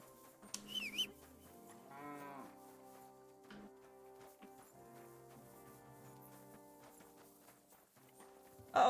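A horse in the video game Kingdom Come: Deliverance II makes soft clip-clopping hoof sounds and a drawn-out tonal cry over quiet game ambience, ending in a sudden loud burst.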